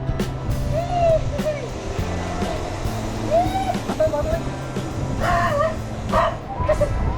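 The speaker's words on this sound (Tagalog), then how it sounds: "Aso!" A dog barks and yips repeatedly in short bursts, close and fairly loud, with whimpering between barks over a low background hum and some people talking.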